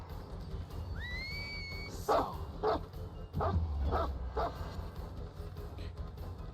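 The Houndmaster's dog in the Dead by Daylight game lets out a run of sharp barks and yips, several in quick succession. Brief rising whistle-like tones sound just before, over a steady game background.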